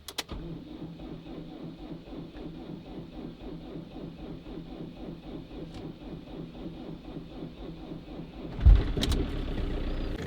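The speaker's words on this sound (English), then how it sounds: "The engine is starting every day, but it's taking some time." A van engine cranks slowly, the starter churning in an even, labored rhythm for about eight seconds before the engine catches with a louder surge and keeps running.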